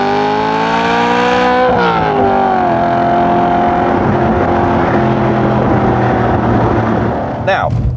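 A BMW M3 E92 with its V8 engine and manual gearbox, revving loud and close from inside the car, pitch climbing then dropping at a gear change before holding a steady drone.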